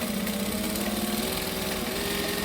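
A sewing machine running steadily as it stitches the three-sided quarter-inch seam of a drawstring bag, a continuous close mechanical hum with rapid needle rattle and no pauses.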